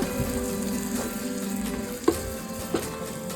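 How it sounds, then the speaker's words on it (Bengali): Tomato frying in oil for a spicy crab curry, a steady close sizzle with a couple of sharp utensil knocks against the pan, no talking. "টমেটোটা দিয়ে আমি আরেকটু কষিয়ে নেব।"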